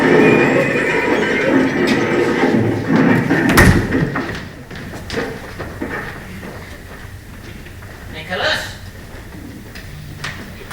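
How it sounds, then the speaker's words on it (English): A horse-drawn cab on a street rumbles steadily, then a sudden heavy crash as it lurches and falls, followed by quieter clatter and a brief horse whinny near the end. "Horse cab stops on the street. It lurches, it swerves, it turns, it falls."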